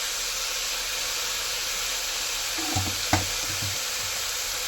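Mutton frying in a cooker gives a constant broad hiss, with a few low knocks and a short scrape partway through.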